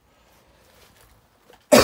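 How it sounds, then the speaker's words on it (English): A single loud, close cough bursts out at the very end, after a stretch of near silence and faint background. "I can cough."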